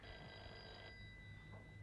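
A telephone rings faintly in an Italian TV episode: a thin, steady electronic ring tone that stops partway through, over a constant low background hum.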